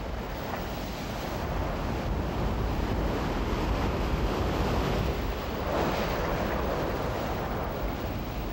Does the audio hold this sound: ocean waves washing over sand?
yes